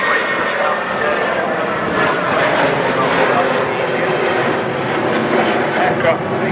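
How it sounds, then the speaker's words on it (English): An airliner takes off at Manchester Airport on a wet, windy day, its engines a loud continuous roar that holds steady throughout the clip. "Aircraft taking off."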